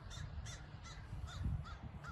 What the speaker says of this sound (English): My crows agree.